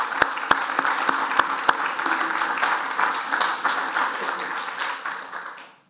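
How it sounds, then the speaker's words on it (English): Audience applause at a church worship service, a dense wash of clapping that starts with a few sharp, distinct claps and then fades gradually toward the end. "a round of applause is important here for her"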